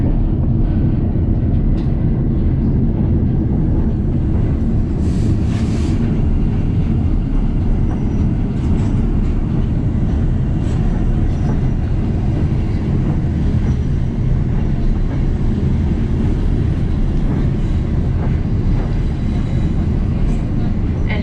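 Steady, loud rumble of a White Pass & Yukon Route train rolling along rails across a bridge near Skagway, Alaska, a continuous low roar with faint metallic rattles and occasional high squeaks throughout.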